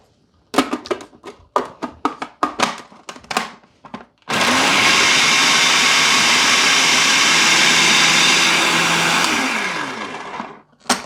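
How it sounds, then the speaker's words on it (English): After a run of sharp knocks and clatters, a food processor whirs loudly and continuously for several seconds, chopping potatoes and onions for latkes, then spins down to silence. "the potatoes and the onions are going into the food processor"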